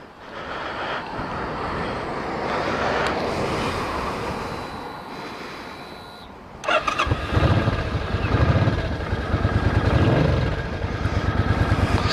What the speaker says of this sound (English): This is a cold start, so haven't started it for about a week.